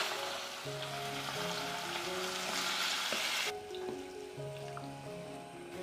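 Pork intestines are briefly stir-fried in a wok, giving a loud continuous sizzle and crackle that drops in brightness partway through, with soft tonal music running underneath.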